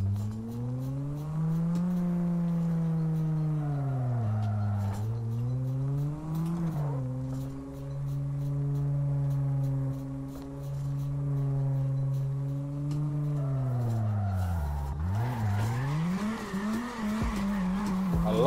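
A car in CarX Drift Racing drives and drifts. The steady engine drone rises and falls in pitch as it revs, and near the end a tire skid breaks in with a brief squeal over the noisy engine.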